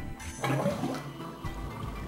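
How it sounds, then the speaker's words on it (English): In the video game 999, water drains out as a short gurgling, flushing rush lasting about two seconds, moderately loud with no talking. "Alright, why don't we just drain this water?"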